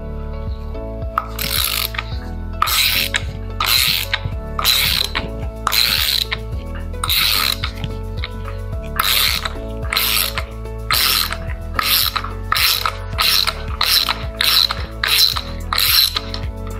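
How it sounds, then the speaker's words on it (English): A 17 mm socket wrench ratchets close up while the propeller is removed from an ePropulsion Spirit outboard: repeated bursts of rapid clicking with short pauses, no voices. "So now we'll grab our 17 millimeter socket wrench here."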